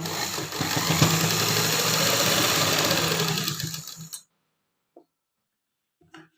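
A sewing machine runs a steady stitching line along a pant seam, close and continuous for about four seconds, then stops abruptly, leaving near silence with a couple of faint clicks.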